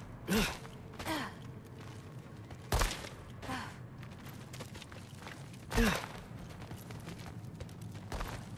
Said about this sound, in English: Something breathing near the back of the cellar.